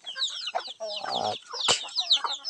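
Palawan native chickens cluck and squawk in a busy, overlapping run of calls on a rural farm, close and fairly loud throughout with no talking.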